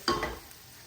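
Green chillies dropped into hot tempering oil for a spicy cereal chivda snack give a brief, sharp sizzle with a stirring scrape that fades quickly into a soft, quiet background.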